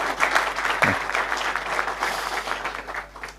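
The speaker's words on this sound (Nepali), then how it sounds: "ताली चाहिँ बजाइदिनुहोस् है." An audience at a network operators' conference applauds a keynote presenter, a steady wash of clapping that holds at moderate loudness throughout with no speech over it.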